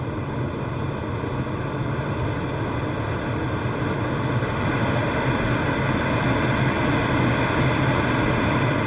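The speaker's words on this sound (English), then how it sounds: "We simulated the wind flow using wind sounds that we connected to variables based on the aircraft physical movements and aerodynamic wind" Simulated wind rushing past a glider in flight in a flight video game, a steady, loud airy roar with a low hum beneath it, unbroken and even throughout.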